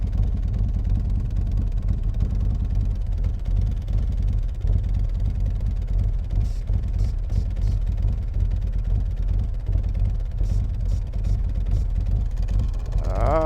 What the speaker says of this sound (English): It's loading up the air tanks.